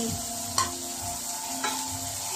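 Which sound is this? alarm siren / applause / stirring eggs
stirring eggs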